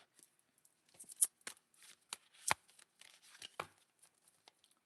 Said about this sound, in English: it's always hard to shuffle these cards